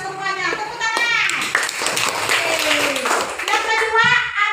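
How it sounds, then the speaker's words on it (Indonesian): A classroom of children claps hands together in a brisk burst, mixing with children's voices and a teacher talking during an Islamic religious lesson. "Tepuk tangan"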